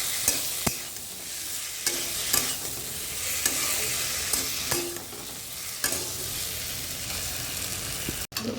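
Spice paste stirred and sautéed in a pan for a Bengali fish curry, a steady close sizzle broken by repeated scraping strokes of a spoon against the pan, with no voices.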